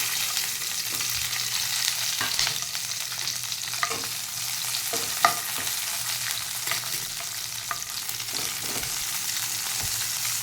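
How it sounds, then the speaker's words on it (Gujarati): Capsicum sizzles steadily in a hot pan, with scattered scraping clicks from stirring over a continuous frying hiss. "હવે આ કેપ્સિકમ છે એને પણ થોડાક તળી લઈશ."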